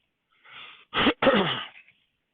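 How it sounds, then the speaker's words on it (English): A person clears their throat in a few harsh, raspy bursts, close up, with a short pause between the middle two. "I had to clear my throat"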